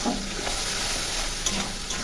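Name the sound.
spice paste being stir-fried in pan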